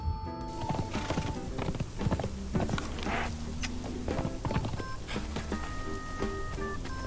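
Rhythmic horse hoof clip-clops with an occasional whinny in the video game Conan Exiles, over synthetic game-like tones and musical notes, fairly loud and steady.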